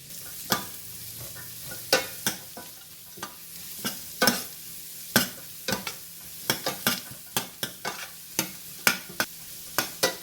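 Ginger, garlic, onion, green chili and curry leaves fry in a pan with fennel seeds for a lobster masala. A spoon scrapes and stirs in quick, irregular strokes over a low, constant sizzle.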